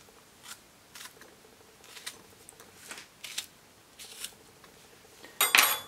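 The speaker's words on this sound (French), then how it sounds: "je vais commencer par couper les fraises" Strawberries are cut for a chocolate strawberry tiramisu: soft, brief knife strokes and faint taps spaced every half second or so, ending in a louder sharp clatter.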